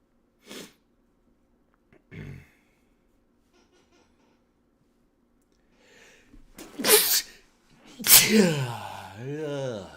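A couple of soft sniffs, then two loud close sneezes in quick succession, the second trailing into a voiced, wavering sound.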